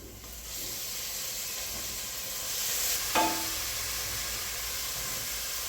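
Ginger garlic paste frying with onions in a pan, a steady soft sizzle and hiss throughout, with one brief sharper clink partway through.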